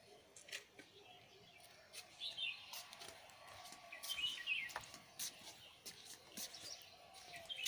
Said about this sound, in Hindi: सुबह सुबह चिड़ियों की चहचाहट दोस्तों बहुत अच्छी लगती है